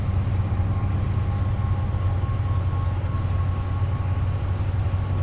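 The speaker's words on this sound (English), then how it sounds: "Oh, we're passing another Freightliner." In Train Simulator Classic, a Freightliner freight train rumbles past with a steady, loud low drone and a faint tonal whine that continues unbroken from start to finish.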